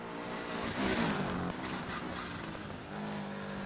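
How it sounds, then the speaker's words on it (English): Subaru Impreza rally car in 555 livery racing in the DiRT Rally 2.0 video game, its engine droning steadily at high revs with a brief surge and a flutter of turbo wastegate, loud and close, with no talking. "Can't beat a bit of turbo wastegate from a 555 Impreza now, can you?"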